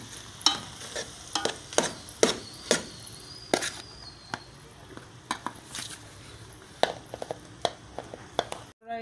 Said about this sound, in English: just mix it all up together, mix everything all up together